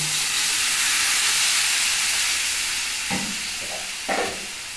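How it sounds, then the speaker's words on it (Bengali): Steady loud hiss and sizzle as a little warm water goes into a potato curry (aloo dum) in a hot pan, the steam fading slightly, with a few clinks of a spoon near the end. "এর মধ্যে আমি একটু উষ্ণ গরম জল অ্যাড করলাম"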